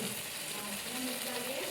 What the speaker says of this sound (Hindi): अब हम इसको अच्छे से करेंगे फ्राई प्यूरी को